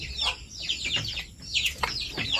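A broody hen clucks beside her newly hatched chicks, whose rapid, high peeping chirps fill the moment close by with overlapping short calls.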